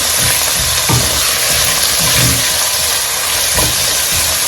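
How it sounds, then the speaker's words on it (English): Shallot and onion frying in a pot while being stirred, a steady close sizzling hiss broken by soft scraping stirs at irregular intervals, no voices. "We'll go ahead and add our shallot and onion. And stir it through."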